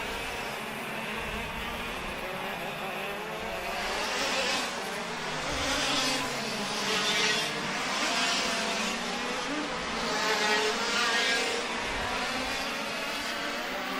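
DD2 and other racing karts buzz past during an open heat race, high whining engines rising and falling in several waves at a distance.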